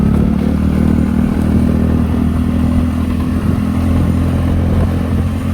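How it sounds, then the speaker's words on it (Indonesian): A motorcycle runs steadily along a village road, its engine hum loud and close with light clatter throughout and no voices. "pedagang yang pakai motor guys"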